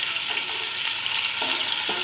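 Onion fries in hot oil with a loud, dense, continuous sizzle, close up and without speech.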